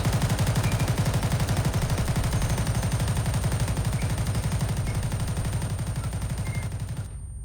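Rapid automatic gunfire in ArmA, loud and continuous for about seven seconds with a high steady ringing tone above, simulating ear damage, then cutting off abruptly.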